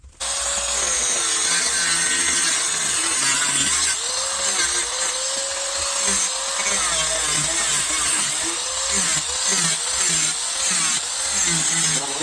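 Steady, continuous power-tool sawing through wood during a boat restoration, loud and close, running the whole time without a break and with no talking over it.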